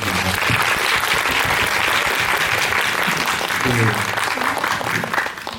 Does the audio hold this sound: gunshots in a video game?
no